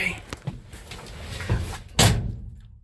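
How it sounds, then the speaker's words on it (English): A door swings shut inside a garage holding a 1966 Chevy C10 pickup truck, a couple of soft knocks followed by a firmer close thudding near and loud. "Sorry, I didn't know that door was going to close,"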